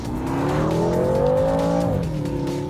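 A BMW M6 Coupe with a 4.4-liter twin-turbo V8 drives past close and loud, its engine note rising steadily as it accelerates, then dropping slightly as it shifts or eases off.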